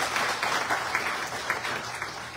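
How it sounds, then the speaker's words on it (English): Audience at a Ramayana satsang birthday celebration clapping for a seated musician, a brief, moderate patter of applause from a gathered crowd without voices. "Give him a lovely round of applause"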